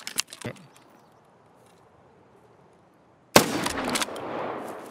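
KS-23 shotgun gunshots in Escape from Tarkov: a burst of sharp shots at the start, a quiet stretch, then a loud blast followed by a lingering rumble and echo.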